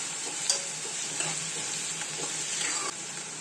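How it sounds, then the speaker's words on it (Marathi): Onion and garlic sautéed in a pan give a continuous hiss of frying with a few soft stirring clinks and scrapes, close and fairly quiet, with no voices. "आता हे आपण परतून घेतो"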